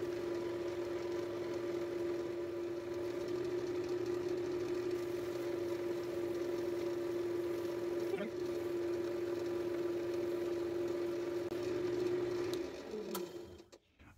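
A wood lathe spins a piece for a friction-polished tung wax finish, giving a steady, even motor whine that holds for most of the stretch before winding down near the end.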